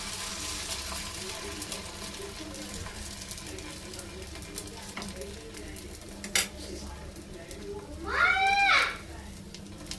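Beaten egg frying in ghee on a hot griddle beside a small bread slice, a low steady sizzle with faint scraping, a brief clink near the middle and a short voice near the end.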